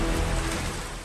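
Heavy rain falls steadily during the Assam monsoon floods as the Brahmaputra rises, a dense, constant hiss of downpour that stays loud and even throughout the brief moment.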